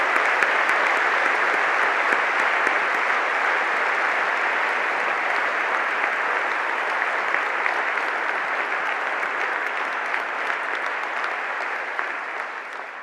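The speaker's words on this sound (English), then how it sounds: "Can we just give them a little round of applause?" Sustained applause from a graduation ceremony audience, dense steady clapping that continues throughout and tapers slightly toward the end.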